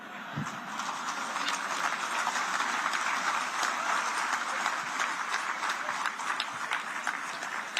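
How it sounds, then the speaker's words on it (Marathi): An audience clapping steadily during a political speech in Maharashtra, a dense and continuous applause that holds at an even level throughout. "अरे प्रत्येक वाक्याला आणि प्रत्येक शब्दाला टाळ्या वाजायला लागले तर माझी पंचायत आहे"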